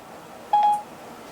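A Vitamix blender's countdown timer chirps a short, clear electronic beep sequence as it is set, alone against a quiet room.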